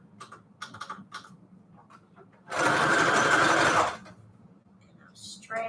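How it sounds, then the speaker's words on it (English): A sewing machine runs in one steady, loud burst of about a second and a half as it alternates straight and zigzag stitches through fabric onto manila tags, with soft clicks and handling noises before and after. "So I'm just alternating straight and zigzag stitch here."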